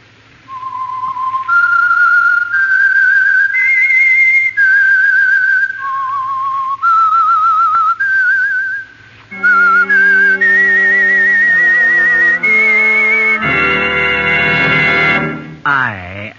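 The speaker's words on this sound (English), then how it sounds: "That whistle is your signal for the Signal Oil Program" A lone whistler performs the eerie theme melody of The Whistler radio mystery program in long sustained notes that climb and fall. Full orchestral chords then join in and swell to a dramatic close.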